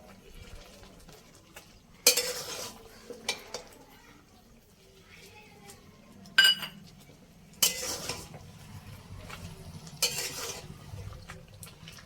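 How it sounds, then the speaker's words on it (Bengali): A spoon stirring Bengali sweet-sour raw mango pickle with jaggery in a pan on a gas stove, a few sharp scraping clanks at irregular intervals over a quiet simmering background. "দু থেকে 3 মিনিট নাড়াচাড়া করে এইভাবে ফুটিয়ে গ্যাসটা বন্ধ করে দেবো"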